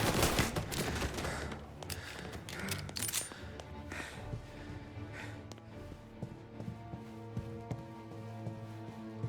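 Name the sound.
gunfire in the video game Mafia: Definitive Edition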